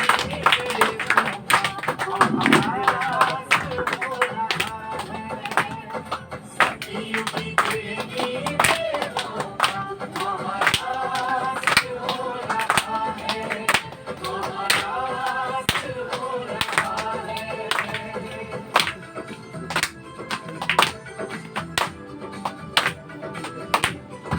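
An audience at a garden welcome ceremony claps hands, a dense run of sharp claps over music and a voice speaking throughout.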